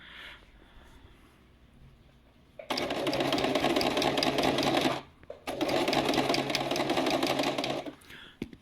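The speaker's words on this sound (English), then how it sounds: "I'm just also sewing it on a single stitch like that." A sewing machine runs a single stitch along the tunnel of a Spangenhelm helmet lining in two steady bursts of rapid mechanical chatter, each about two to three seconds long with a brief pause between, close and fairly loud after a quiet start.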